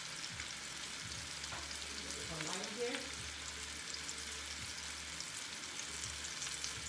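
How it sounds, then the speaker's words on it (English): Short ribs browning in a pan for a crockpot dish, a faint continuous frying hiss with a few soft scrapes and a low hum underneath. "So I'm going to let these ribs brown."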